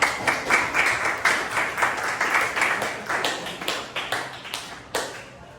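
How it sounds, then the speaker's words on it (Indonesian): A classroom of high school students claps in a rhythmic, pulsing pattern of loud bursts that keeps a steady beat for about five seconds before fading. "Sekarang berikan tepuk tangan"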